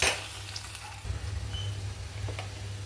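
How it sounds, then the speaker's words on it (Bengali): Chopped raw onion hits hot oil in a pan while mutton curry is being cooked, bringing a soft steady sizzle and low hiss with faint stirring, close and quiet, with no talk. "এবারে আমি কাঁচা পেঁয়াজ কুচোনো ওটা দিয়ে দেব।"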